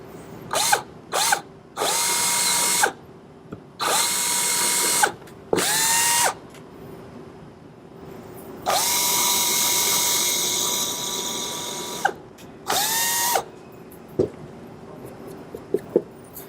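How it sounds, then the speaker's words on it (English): A power drill drills pilot holes into wood in several bursts of a few seconds each, whining up to speed and biting in, with clicks and short pauses between. "we're going to take the drill again, drill some pilot holes into this section up on the top"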